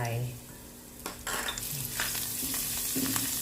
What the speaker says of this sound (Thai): น้ำมันก็ ใส่ลงไปใส่ กระเทียมกับ พริกไทยดำลงไป